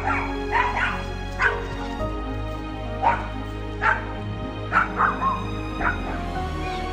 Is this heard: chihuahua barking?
yes